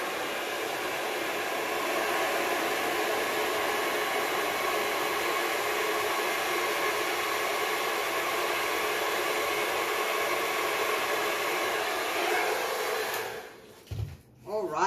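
A hair dryer blows steadily and loudly at paint for a spin bloom acrylic pour. Its continuous whooshing roar lasts about thirteen seconds, then it cuts off abruptly with a few handling bumps.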